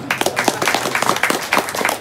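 An audience claps at a Balinese Hindu dharma wacana sermon, producing a dense, steady patter of many hands close by that lasts the whole two seconds without a break.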